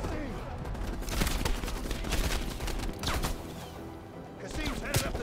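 Dense bursts of rapid gunfire and explosions fill a Black Ops Cold War firefight, with crashes and clatter layered throughout and voices speaking over the chaos.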